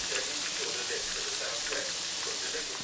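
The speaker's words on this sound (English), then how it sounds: "fry that with the lid off for the next few minutes, up until they're nice and crispy" Steady crackling sizzle of onion bhajis frying in hot oil, close and continuous, with no voices.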